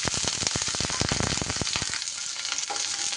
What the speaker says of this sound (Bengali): এবার আমি এই তেলের মধ্যে দিয়ে দিচ্ছি সামান্য একটু 5 ফোড়ন।